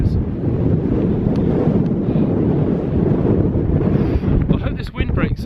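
Strong wind roars across a mountain ridge on a fell walk from St Bees, loud and steady at the microphone throughout, with no voices.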